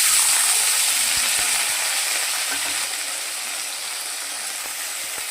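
Chickpeas with dried and fresh green chillies frying in a pan while cooking a vegetarian dish, a loud, steady, close sizzle that fades slightly toward the end.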